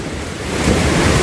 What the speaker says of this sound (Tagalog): Inabot ang lakas ng ulan, dumating sa ating kamansot.